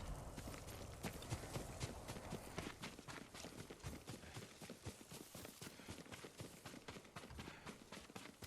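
Horse hooves clip-clop in the video game Ghost of Tsushima, a quick, even run of light hoofbeats that carries on throughout at a faint level with no talk.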